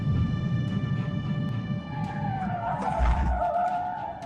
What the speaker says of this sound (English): The police performed a pit maneuver on the targeted vehicle, causing it to lose control, hit the median, and flip over